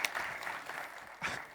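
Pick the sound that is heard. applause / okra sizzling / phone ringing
applause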